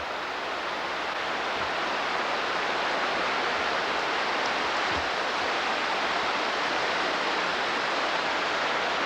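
A creek flowing beneath a bridge near a cabin gives off a steady, full rushing hiss, loud and close, with a couple of faint low thumps and no talking.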